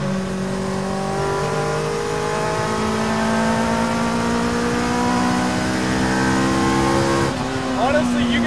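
A custom mid-engine Mini's high-revving engine, revving to 13,000 RPM, screams loudly and close, its pitch climbing steadily under hard acceleration before it shifts abruptly near the end.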